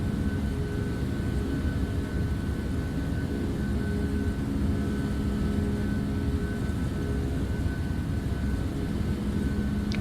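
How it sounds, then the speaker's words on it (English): A Captain Sim Boeing 757 rolls down the runway for takeoff in the Prepar3D flight simulator, its jet engines giving a steady, loud, unbroken roar with a constant whine on top. "feels like this is gonna be a bit of a takeoff run here"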